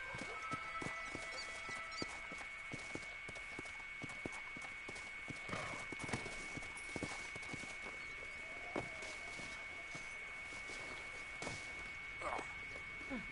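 Horse hooves clip-clopping in the Western video game Red Dead Redemption, a steady run of soft hoofbeats over a constant ambient hum, with faint game sounds in between.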